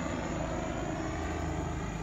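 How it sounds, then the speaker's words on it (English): Helicopter passing overhead late at night, a steady broadband engine and rotor roar that stays loud and constant throughout, with no voices. "there's a helicopter flying around"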